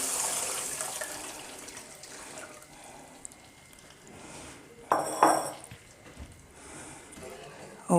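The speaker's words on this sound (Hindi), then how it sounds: "ये पानी हमने शामिल कर दिया है सूजी में।" Water poured into semolina in a pan while making suji halwa, a soft running splash followed by brief metal clinks of utensils, close by.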